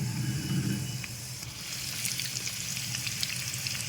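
A piece of onion drops into hot oil heating for chicken dum biryani and fries with a steady, close sizzle and crackle, slightly louder at the start, with no talking.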